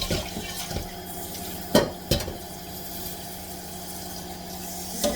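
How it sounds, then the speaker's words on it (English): Running tap water pours into the biggest cooking pot in a pantry kitchen, a steady splashing gush with a few louder clunks and knocks against the metal, close by. "I'm going to put little water."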